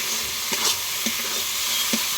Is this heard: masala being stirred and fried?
yes